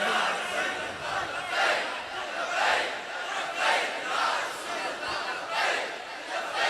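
A large crowd at a mosque milad gathering chanting labbaik slogans in unison, rhythmic swelling shouts repeating about once a second, loud and reverberant with a lead voice calling out.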